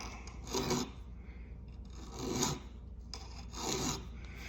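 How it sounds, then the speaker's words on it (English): Hand file rasping across steel liners for a slip joint pocket knife held in a cheap vise, three distinct push strokes spaced evenly about a second and a half apart, close and moderately loud with a faint scraping hiss between. "start pushing on the file"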